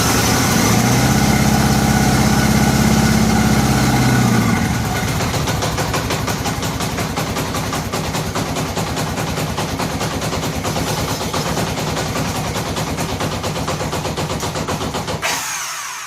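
A 1983 Honda GL1100 motorcycle engine running at a fast idle while misfiring, a loud continuous uneven rumble close by, with the engine note changing slightly after a few seconds and then cutting off near the end.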